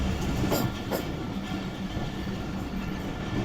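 Hazara Express passenger train running on the line, a short rake of coaches giving steady clickety-clack wheel beats over a loud, continuous rumble.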